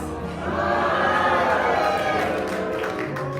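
A theatre crowd at an evening talk in Kelowna, British Columbia, rises into a loud, sustained collective cheer and shout of greeting that swells then slowly fades.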